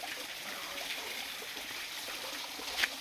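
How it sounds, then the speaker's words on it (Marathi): Water flows steadily down a jungle waterfall in winter, a soft even rush and trickle heard from a distance, faint and continuous with no talk. "हे धबधबा आहे। इथून पावसाळ्यामध्ये अगदी पाणी सुंदर वाहत आहे"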